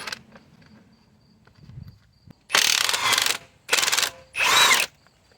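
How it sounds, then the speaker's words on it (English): A ratchet spins off the 17mm transmission mount bolts on a Nissan Murano, three loud rapid clicking bursts up close after a quieter lead-in. "right now we're gonna take those 17mm bolts off on this side of the transmission"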